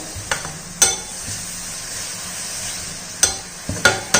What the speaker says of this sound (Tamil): எல்லாத்தையும் நல்லா மிக்ஸ் பண்ணிக்கிடுவோம்